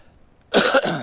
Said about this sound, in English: This cough that I've been dealing with for weeks now